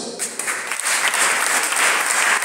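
Loud, sustained clapping from a church congregation, dense and continuous, filling the space with no voices above it.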